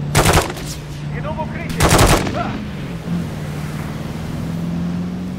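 Bursts of automatic gunfire rattle out in a Call of Duty Modern Warfare 3 mission, two loud volleys about two seconds apart over a steady vehicle engine drone.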